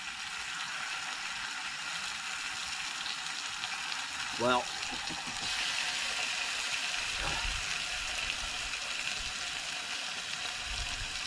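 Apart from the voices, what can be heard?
thick cut bacon sizzling in pan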